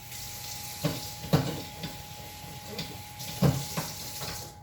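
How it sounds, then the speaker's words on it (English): Water poured into a pan of sizzling taco meat mixture gives a few sharp hissing bursts over a steady frying crackle, close by with no talking. "I'm gonna put a little bit of water in this"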